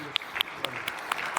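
A short burst of applause in a church service, sharp claps ringing out over a room with a voice under it.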